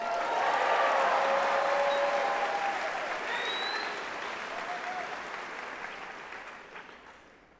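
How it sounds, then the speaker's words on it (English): An audience at the 2023 New Orleans Book Festival breaks into a full round of applause, loud at first and then gradually thinning out, with a few faint whoops above the clapping. "let's hear one last round of applause for the Book Festival."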